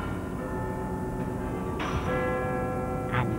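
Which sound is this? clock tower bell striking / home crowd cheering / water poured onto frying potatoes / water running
clock tower bell striking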